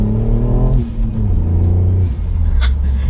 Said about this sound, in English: It's got a flatter, more 3-cylinder noise